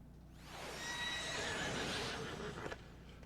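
A horse neighs loudly in the video game Final Fantasy XIV, a single long whinny that rises and wavers for about two seconds before fading, with faint hoof clops underneath and no talking.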